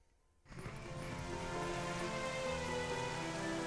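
Steady rainfall in The Legend of Zelda: Twilight Princess HD rises in after a quiet half second, then continues as an even, full hiss with soft musical tones beneath.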